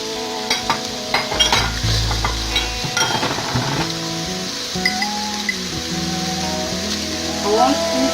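Ginger, garlic and onion sizzle and fry in a pan while being stirred, with scraping and clinking of a utensil against the pan, close up and steady, under a speaking voice.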